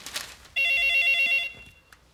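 A telephone bell rings loudly in one steady burst of about a second on a Korean sitcom set, then cuts off, with faint voices before it.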